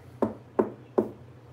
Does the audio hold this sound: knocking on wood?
yes